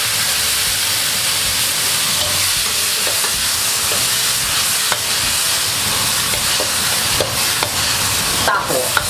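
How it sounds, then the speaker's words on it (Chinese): Chopped tomatoes stir-fry in hot oil in a wok over high heat, a loud continuous sizzle and hiss with scraping stirs from the spatula throughout, no talking. "大火炒出汁水。"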